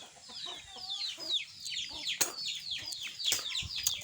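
Free-range chickens wandering loose outside the coop, clucking in quick overlapping calls close by, a busy flock chatter with a couple of sharper squawks.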